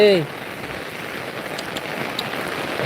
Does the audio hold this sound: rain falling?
yes